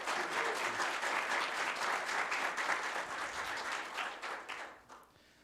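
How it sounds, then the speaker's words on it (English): Audience applause at a community town hall, a dense, steady wash of many hands clapping for about four seconds before thinning and fading out. "And so if we could just give them a round of applause."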